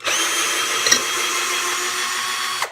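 A SnapFresh 20V cordless drill driver drives a 2-inch screw, its steady high motor whine running nearly three seconds at close range with a brief bump near the start and end, no talking.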